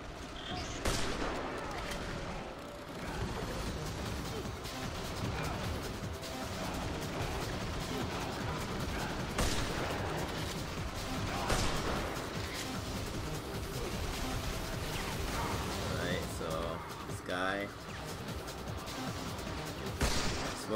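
Steady, cluttered gunfire as a player shoots at a robot in the action game Vanquish, with repeated shots and mechanical clanks running under a noisy, busy mix of effects over a long stretch.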